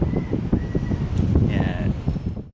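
Strong wind buffets the microphone with a constant low roar during tower work for a radio unit replacement, with a faint voice and a brief whistling tone above it.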